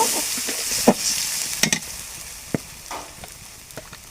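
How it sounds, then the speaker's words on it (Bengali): Ground spice pastes of chilli, onion, cumin, garlic and ginger stirred and fried in a pan, with a steady soft sizzle broken by several sharp scraping stirs, close and alone. "সব রকমের বাটা মশলা দিয়ে দেব। ভালো করে নাড়ব।"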